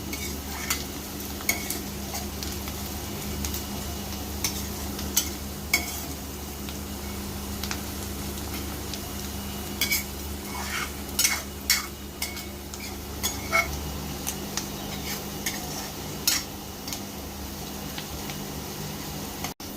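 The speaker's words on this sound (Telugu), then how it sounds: "జీడిపప్పు వేసానండి. గోల్డ్ కలర్ వచ్చేంత వరకు వేగనివ్వాలి." Cashews, onion and green chili fry in a pan for a village-style country chicken curry, with a low steady sizzle under scattered scraping clinks from stirring.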